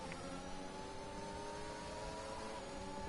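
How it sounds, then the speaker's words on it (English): A Formula One style racing car engine screams at very high revs in a racing video game at the Brazil round, a sustained, steady whine held at near-constant pitch under a dense hum, with no talk. "As Preston running the revs very high"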